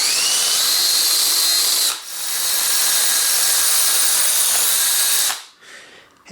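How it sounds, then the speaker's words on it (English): A power drill boring a hole while mounting a clamp for a seized bicycle seatpost, giving a loud continuous high whine that dips briefly once and then stops near the end. "so I can drill the other hole"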